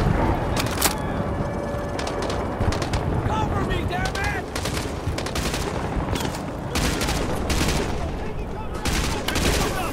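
Rapid machine-gun and rifle fire in Call of Duty: Modern Warfare 2 Remastered, loud sustained bursts and sharp cracks filling the scene, with voices speaking amid the shooting.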